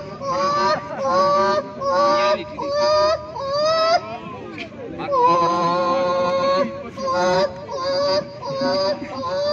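A voice imitates a chicken's call at a street gathering, giving a series of rhythmic, nasal clucking bursts with short pauses between them, loud and close.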